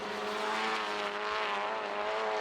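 A race car with a sequential gearbox at a GRIDLIFE TrackBattle sprint at Chicagoland roars loud and close, its engine note holding a dense, steady howl while the revs climb, with no voices over it.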